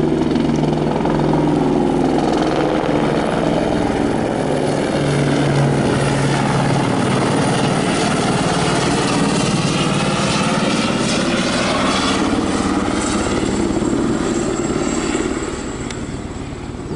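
A Military Police Águia helicopter flies overhead, its rotor thumping and turbine roaring loud and continuous, shifting slightly as it passes before easing off at the end.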